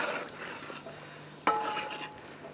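Chicken biryani being stirred in a large cooking pot, with soft scraping and shuffling and one sharper metallic clink partway through, followed by a faint ringing tone.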